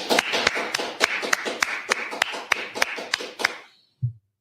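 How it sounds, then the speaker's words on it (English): A brotherhood class claps together in a strong, rhythmic run of about a dozen loud, near claps at an even pulse, then stops, followed by a single dull thump. "All right, let's clap it up."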